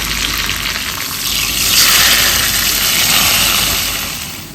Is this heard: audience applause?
no